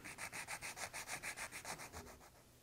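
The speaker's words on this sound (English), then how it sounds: "Take a few minutes to eliminate that seam with a sanding stick." Steady back-and-forth rasping of a sanding stick on the plastic fin of an Estes Saturn 1B model rocket, about fifteen even strokes in a quick rhythm, close and clear with no voices.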